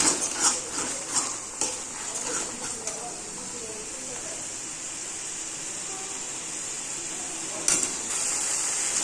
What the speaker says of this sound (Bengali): মশলাটা প্রায় কষে এসছে আর একটু নেড়ে চেয়ে নেবো